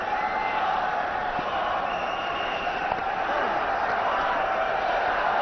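A large cricket crowd at Wankhede Stadium in Mumbai, a one-day international between India and South Africa, makes a steady distant roar and murmur that fills the whole stretch without letup.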